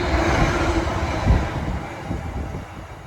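Trains at Milton Keynes railway station, heard as a steady, loud low rumble of rolling rail traffic with a brief heavier thump partway through and no voices.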